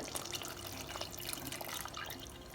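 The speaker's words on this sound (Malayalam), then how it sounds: "ആദ്യം ഞാൻ ചേർക്കുന്നത് രണ്ടാം പാലാണ്." Second coconut milk poured into jackfruit payasam, a continuous close liquid splashing and trickling with faint dripping throughout.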